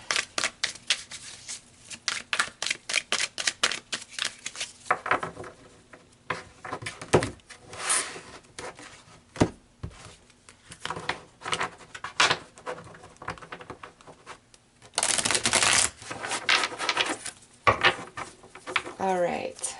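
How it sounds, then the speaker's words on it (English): A deck of tarot cards is shuffled and pulled by hand in a series of close, quick flicks and taps, ending in a denser riffling burst near the end. "I'm actually gonna pull several extra cards for you guys so I can understand this."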